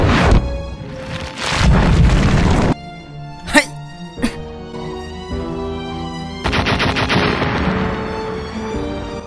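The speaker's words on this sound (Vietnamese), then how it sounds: "Một vụ nổ ngay trước mặt cô ta." Explosions in the video game Minecraft, several sharp booms and blasts spread across the stretch, layered over tonal game sounds and background music.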